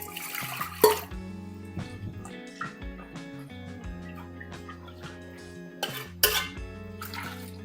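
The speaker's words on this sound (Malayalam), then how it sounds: "ഇതിനകത്ത് കുറേ വെള്ളം ഒഴിച്ച്" Water is poured into a cooking pot of dal and tomato for a Kerala-style pouring curry, with splashing and dripping mixed with metallic clinks and scrapes of the pot and utensils close by, and no talk.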